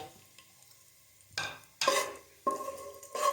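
Whole spices for shahi pulao fry lightly in a pan: bay leaf, four cloves, two green cardamoms, a cinnamon piece and cumin seeds. After a quiet start, a spoon stirs them through bursts of bright, crackling sizzle.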